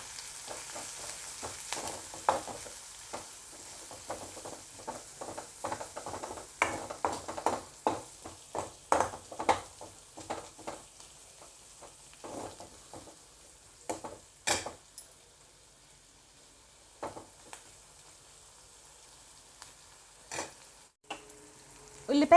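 Onions with salt fry in a pan, heard as quiet intermittent sizzling bursts and scraping stir strokes that come in irregular clusters, fading sparser toward the end.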